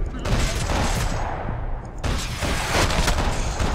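Dense burst of gunfire riddling an enemy in Max Payne 3, loud continuous rattling shots with a brief break near the middle, then renewed firing.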